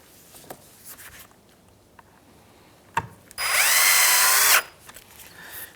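A power drill runs one steady burst of about a second, driving a screw into the plastic grille of a 2003-2011 Honda Element, after a few light taps and clicks.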